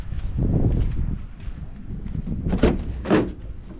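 A van door is handled to get tools out, giving a couple of muffled thuds and a sharper clack near the end against faint background noise.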